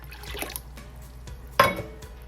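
Vinegar is poured into a pot of water for a turmeric dye bath, making soft liquid splashes and a short, brighter pouring gurgle near the end, close and fairly quiet.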